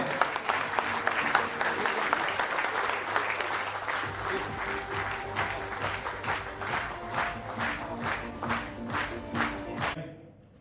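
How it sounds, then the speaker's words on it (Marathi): A crowd applauds loudly and steadily. The clapping gradually settles into a rhythmic beat before stopping abruptly. "जोरदार टाळ्या।"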